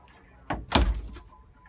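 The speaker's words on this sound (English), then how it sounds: "Let me close the bathroom for a moment." A bathroom door inside a 24-foot motorhome is pushed shut, giving two quick knocking thumps close by, then a faint rattle as it settles, in an otherwise quiet interior.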